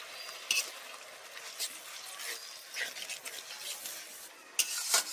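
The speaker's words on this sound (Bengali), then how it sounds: "মশলাগুলো খুব ভালোভাবে কষে নিতে হবে" Ground spice paste with salt and turmeric being stirred and fried in a pan with a splash of water, soft scraping stirs and faint sizzling, with a few sharper spoon scrapes against the pan.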